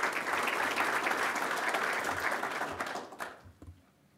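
Members at a golf association congress give committee members a warm round of applause, a full crowd clapping steadily before it thins out and stops in scattered final claps.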